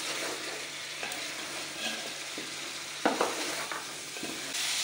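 A pot of tender, fully cooked gosht is stirred slowly and gently, with a steady sizzle running underneath and a few soft scrapes and knocks of the spoon against the pot.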